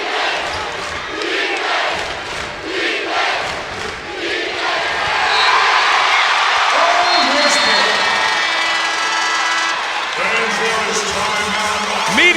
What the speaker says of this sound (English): And again, the crowd gets loud.